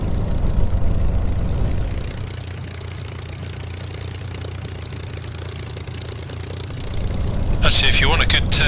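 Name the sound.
Spitfire engine idling while taxiing, flight simulator video game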